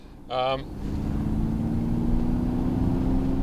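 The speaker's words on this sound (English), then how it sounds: "That sounds like an engine, like a deep thrum of an engine." A brief tone, then a steady low synthetic engine hum from a 2021 Ford Mustang Mach-E's artificial propulsion sound rises in and holds, smooth and continuous, like a deep artificial drone.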